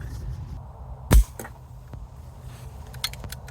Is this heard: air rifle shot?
yes